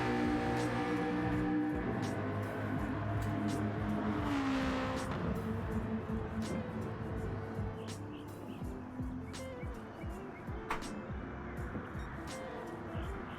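Race cars on track at Autopolis in a sim racing league final, engines revving and passing in the near background with occasional tire squeal, while a person talks over the track noise throughout.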